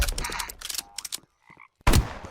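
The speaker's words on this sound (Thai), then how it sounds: "เสียงอะไรกบร้องเหรอเมื่อกี้เนี้ย" Frog croaks from the Frog Boss in the video game 99 Nights in the Forest: two short, separated calls in a quiet gap, set between bursts of louder game noise.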